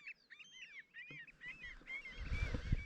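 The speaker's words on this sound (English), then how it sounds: "These oyster catchers are making some crazy noises out here." Oystercatchers call with a flurry of shrill, piping cries, repeated in quick bursts over a low outdoor rumble that swells toward the end, on the coast of Islay, Scotland.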